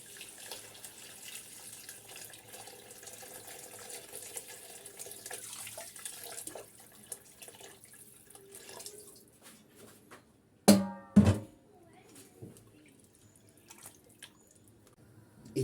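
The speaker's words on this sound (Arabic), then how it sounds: "بعدين رح نضيف مي حارة" Hot water being poured into a cooking pot of kabsa, heard as one short splashing pour with a second brief gush, close and fairly loud against a quiet kitchen background, with no talk.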